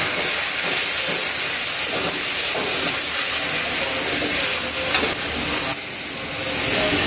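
A splash of water hits a hot pan of browned onions for a mixed vegetable curry, setting off a loud continuous hiss of sizzling steam that carries on with stirring before easing slightly near the end.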